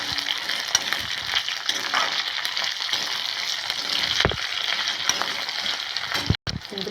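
Crushed ginger and garlic fry in hot oil in a pan, a loud, continuous sizzle with stirring scrapes and a brief dip near the end.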